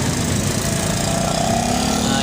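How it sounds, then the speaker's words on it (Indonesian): Motorcycle engine being revved, a loud continuous close buzzing drone with rising pitch through the stretch. "Pakai motor di gerung-gerung gitu."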